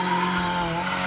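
A Nissan S14 drift car with an SR20 engine slides with a loud, sustained tire squeal over a strained, droning engine note during drift championship practice in Cyprus. It is brief and continuous, with no talk.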